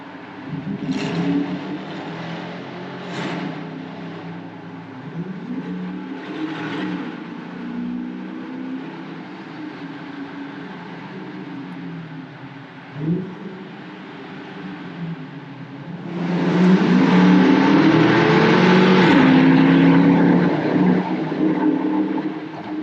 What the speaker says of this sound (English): So really, this car sounds good. Has that growl to it.